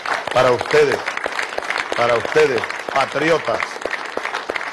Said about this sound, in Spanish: vaya este aplauso de todo un pueblo